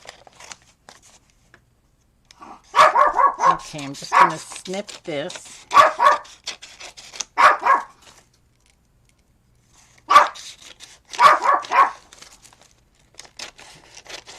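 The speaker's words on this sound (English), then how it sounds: "I apologize for the barking." A dog barks several times in short bursts close by while a person speaks briefly.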